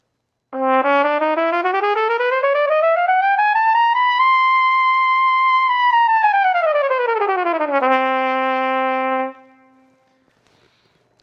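A valved trumpet slides in one smooth continuous phrase up through all the notes in between and back down, a bright sustained tone held close and alone before stopping.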